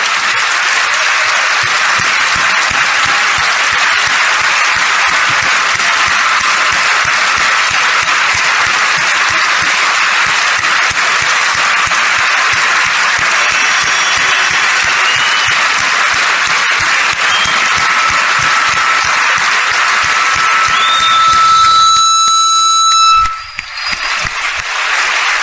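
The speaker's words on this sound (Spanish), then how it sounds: "Vamos a darles un fuerte aplauso." A large audience stands and gives a loud, sustained round of applause, thick continuous clapping that fills the room for over twenty seconds before cutting off near the end.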